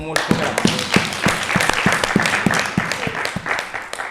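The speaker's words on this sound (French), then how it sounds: "Applaudissons pour le Seigneur." A church congregation claps in praise of the Lord during a French-language service, a dense, steady round of applause with some rhythmic, prominent claps nearby and voices mixed in underneath.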